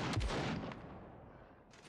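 Distant gunfire in the SCUM survival shooter, a few muffled reports early on fading into a low rumbling echo, heard alone without speech.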